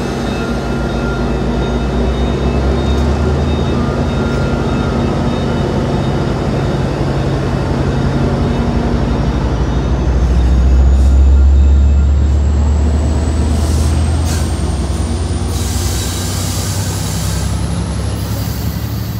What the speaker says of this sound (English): It's a massive locomotive, eh?